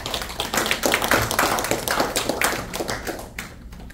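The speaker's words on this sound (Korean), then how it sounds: "박수로 환영해 주시죠." An indoor audience at a panel discussion claps steadily in a dense, continuous burst of applause that thins out toward the end.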